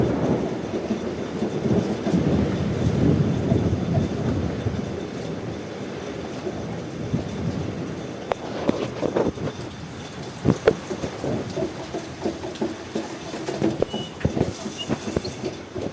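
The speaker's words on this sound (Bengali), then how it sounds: "ভালো হচ্ছে বৃষ্টিটা" Summer rain falls outside a house, a steady broad hiss with low rumbling early on and a few sharp knocks and taps later.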